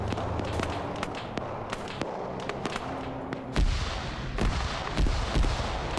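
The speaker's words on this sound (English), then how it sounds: "Now you're hearing that AGS do a barrage here." AGS automatic grenade launcher barrage in a military video game base raid: a rapid, irregular string of sharp explosive thumps and cracks over a constant low rumble, with heavier booms near the end.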